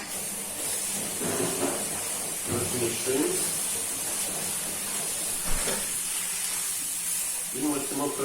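Onion and carrot fry in a pan with tomato paste stirred in, giving a steady hiss and sizzle throughout, with a person talking over the cooking noise at intervals.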